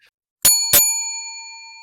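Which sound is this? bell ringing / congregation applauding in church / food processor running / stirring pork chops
bell ringing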